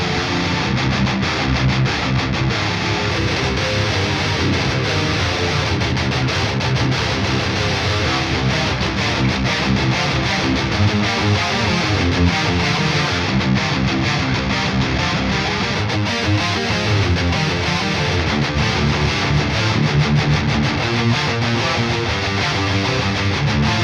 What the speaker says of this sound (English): so that you can get an idea of the guitar tones that I use in that mix